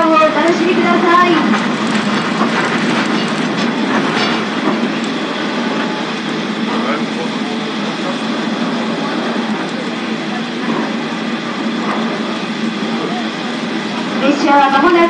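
Shiokaze-go retro sightseeing train rolling along rails in Kitakyushu, a steady loud rumble and rattle of the carriage heard from inside throughout.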